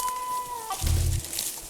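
A rooster pheasant bursts into flight with a quick whir of wingbeats and a short harsh cackle, close by, after a thin tonal whistle.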